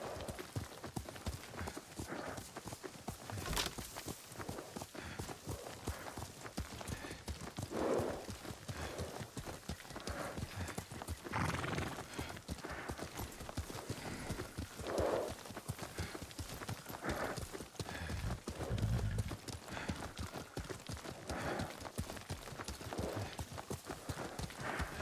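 Horse hooves clip-clop at a steady riding gait in Ghost of Tsushima, rhythmic and fairly quiet throughout, with faint ambient wind and occasional soft snorts.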